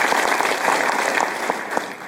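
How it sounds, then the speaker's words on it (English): Audience applause at a live talk-show taping fills the room, a steady dense patter of many hands clapping at close range with a few sharper claps standing out. "All right, clap it up for those answers."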